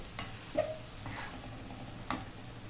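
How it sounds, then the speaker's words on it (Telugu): Stuffed bitter gourd frying in a pan, a soft, faint sizzle running throughout, broken by a few sharp clicks and taps of a utensil. "ఇది ఎట్లాగైతే వేయించండి"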